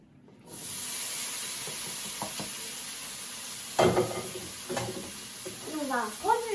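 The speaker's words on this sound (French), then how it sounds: "Et on va remuer." Ratatouille vegetables sizzle steadily in a frying pan, with a bright hiss. Scraping stirs come through loud and close, and a voice speaks briefly near the end.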